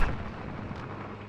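A tank firing a shell in the video game Conker's Bad Fur Day, one heavy booming blast that decays into a rumbling tail, loud and alone.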